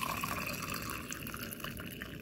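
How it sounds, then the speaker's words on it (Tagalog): Water pours into a cup for rooting a potted plant cutting, a soft continuous trickling splash that stays faint and steady for a couple of seconds. "So, lalagyan natin ng tubig"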